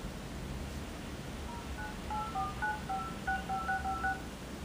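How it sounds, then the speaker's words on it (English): DTMF keypad tones from the dialer of a Sony Xperia Arc S smartphone, a quick run of short beeps in steady succession over a constant background hiss. "the phone dialer"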